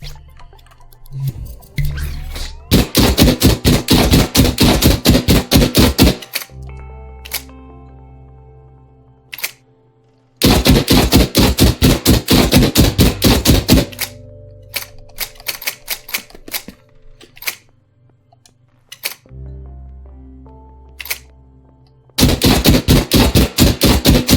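An automatic gun in an FPS made in Dreams on PS4 fires in long rapid bursts of sharp clicky shots, broken by pauses filled with low reload mechanism sounds and short silences, repeating several times.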